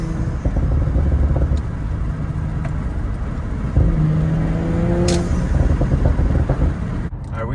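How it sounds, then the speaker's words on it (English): Audi RS5 Stage 2 with a TCU tune and stock blow-off valves, heard from inside the car: a loud, steady engine drone with rising revs, a shift step midway and a brief whoosh near the end. "Still stock blow off valves also, if you can hear those"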